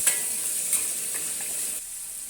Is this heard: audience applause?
no